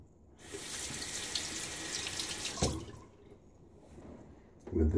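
Water runs from a bathroom tap to rinse a Merkur Futur safety razor, a close steady splashing stream of a few seconds that cuts off, followed by a brief clatter.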